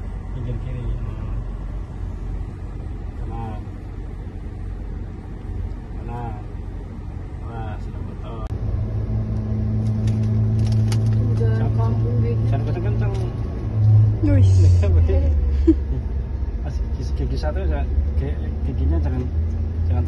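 A car engine hums steadily and then rises in pitch as it accelerates during a driving lesson. The engine stays fairly close and sustained, with voices talking over it.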